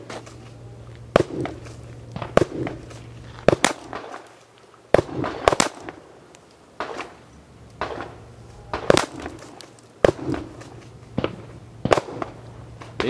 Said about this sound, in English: First time shooting the Walther P22.